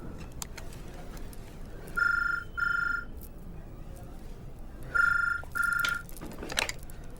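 A telephone rings in a home scene from a Bollywood film, two paired trilling rings several seconds apart, clear and fairly loud over quiet background ambience.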